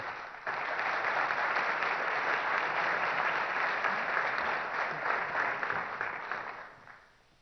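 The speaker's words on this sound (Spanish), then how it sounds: "el señor Juan Rodolfo Sánchez, para el cual les pido un fuerte aplauso." Sustained applause from the audience at a 2015 Guatemalan presidential candidates' debate forum. It swells quickly, holds as a dense, even roar of many hands for several seconds, then tapers off at the end.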